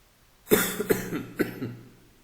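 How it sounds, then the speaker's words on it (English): A person coughs several times in a quick burst, close and loud, each cough trailing off. "Apologies for that, for my coughing."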